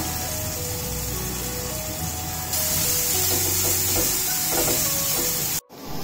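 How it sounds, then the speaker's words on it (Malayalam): About three finely chopped onions sauté in oil in a pan with a constant soft sizzling hiss under melodic background music. The sound swells partway through, then cuts off sharply near the end, and no one talks. "അപ്പോൾ ഈ സബോള നന്നായിട്ട് ഒരു വഴന്നു വന്നു"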